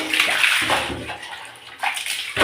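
Water splashes and sloshes steadily while a bathroom toilet is washed out during a deep clean. The rushing and spattering is close and loud, with a few stronger surges toward the end, and no talking.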